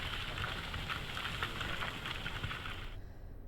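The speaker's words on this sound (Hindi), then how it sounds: "मौसम खराब है, बारिश हो रही है" Steady rain pours down at a landslide site in Uttarakhand, where large rocks have fallen and blocked the road during bad weather. The dense hiss stays constant, then drops away abruptly near the end.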